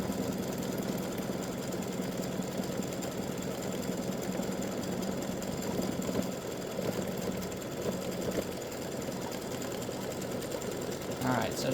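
An embroidery machine satin stitching around the wings and body of a freestanding-lace bat design, a fast, steady mechanical chatter running throughout at close range.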